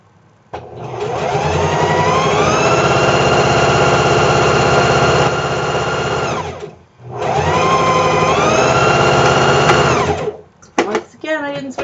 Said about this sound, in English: it was me at my sewing machine